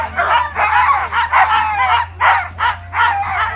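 Team of Nordic sled dogs at the start of a ski-joring race stage in Les Gets, a loud chorus of overlapping excited barks and yips in quick bursts, near and energetic.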